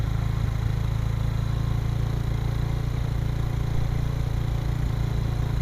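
A TVS Victor 3V motorcycle engine is held at a steady run during carburettor tuning, giving a close, continuous low hum with no speech over it.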